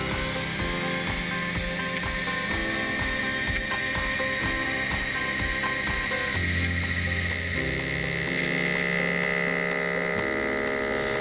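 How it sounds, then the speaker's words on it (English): A 90-degree countersink cuts metal on a small Sherline lathe while making a tailstock die holder, giving a steady loud mechanical whir with rapid rhythmic ticking and a mains-like hum throughout, shifting pitch partway through. "So I centered the cutter on the work and took extra care to make sure it was clear of the chuck"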